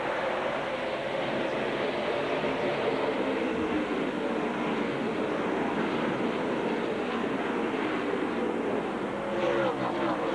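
NASCAR stock cars roaring off at the start of the 2005 Subway Fresh 500 in the desert, a dense, continuous engine roar from a full field held at steady loudness throughout.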